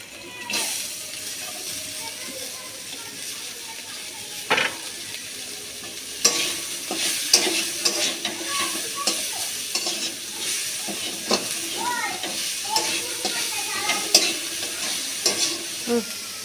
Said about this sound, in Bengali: এবার আমি এতে পেঁয়াজগুলো দিয়ে দিচ্ছি